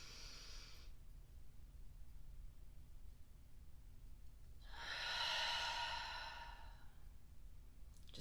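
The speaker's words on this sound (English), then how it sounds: "Just take a deep breath." A deep breath is taken during a guided mantra workshop: a short exhale at the start, then a long, airy, audible sigh swelling and fading, close and soft in a quiet room.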